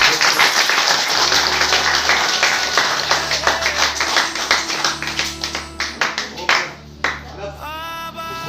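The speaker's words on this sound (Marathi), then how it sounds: "सर्वांनी जोरदार टाळ्या वाजवायच्या" An audience clapping at an Independence Day ceremony, dense sustained applause that thins into scattered claps, with a voice over the crowd and a short musical tone near the end.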